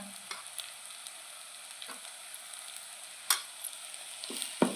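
Spices and Byadgi chilli powder sautéed in a pan for paneer masala, a quiet, even hiss of frying broken by a few sharp spoon clicks and scrapes against the pan.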